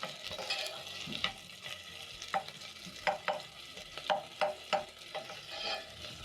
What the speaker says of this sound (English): Once the cooking oil is hot, you're going to add in your onions. Saute until the onions have a nice golden brown color.